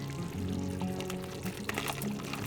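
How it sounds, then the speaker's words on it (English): Fried fish goes into a pot of Nigerian egusi melon soup with bitter leaf, giving a soft, continuous liquid pour and sloshing close by, with light splashy bursts toward the end. "Now I'm going to add our fish."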